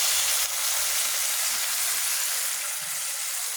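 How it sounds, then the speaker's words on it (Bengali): Steady loud sizzle and hiss as broth hits dried fish frying in a pan, a continuous bubbling crackle with no pauses. "সামান্য পরিমাণ শুটকিটা আমি একটু ঝোল দিয়ে দিলাম"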